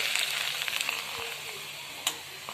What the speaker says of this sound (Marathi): इथं मी नाचणीचे पापड तळते